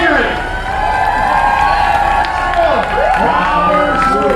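Crowd lining a Fourth of July parade in Brighton, Michigan, cheering and clapping for passing police, with shouts, whoops and a loud cheer rising and falling over several seconds.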